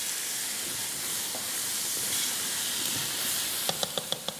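Seasoned food sizzles in a hot pan with a steady, close broadband hiss that holds throughout, followed by a short run of sharp clicks near the end.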